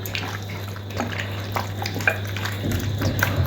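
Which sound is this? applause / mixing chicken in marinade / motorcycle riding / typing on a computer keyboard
mixing chicken in marinade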